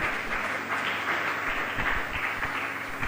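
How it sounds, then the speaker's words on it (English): An audience at a government press briefing claps steadily for a deputy regional minister. The applause is a continuous, moderately distant wash of many hands with no talking over it. "Please give me another round of applause."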